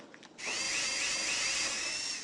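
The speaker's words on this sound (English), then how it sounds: "Drill holes for the head and wheels." An electric drill in the video game Tonka Workshop bores holes in a wooden toy horse, a single steady high-pitched whine that starts abruptly after a short click and runs for about two seconds.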